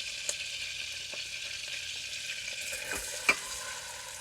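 Onions frying in a pot for rib tip sauce, a soft steady sizzle with a few light taps and stirs of a utensil, one sharper knock near the end.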